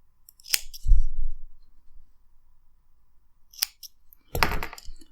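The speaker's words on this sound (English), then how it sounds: "Cut your cotton more or less to the deck." Scissors snip cotton wick while a Vertex MTL RTA vape coil is built, a few crisp close cuts separated by short pauses, with no talk.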